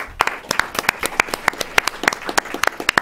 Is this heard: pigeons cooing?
no